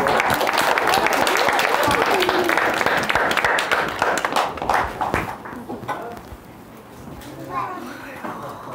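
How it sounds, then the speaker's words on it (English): Loud audience applause, dense clapping that fades out over several seconds, with voices and a brief cheer mixed in. "Make your applause for it right there."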